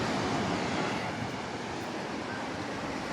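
Ocean waves washing onto a beach right in front of a house, a steady broadband roar of surf with wind noise on the microphone, continuous and fairly loud throughout with no talking.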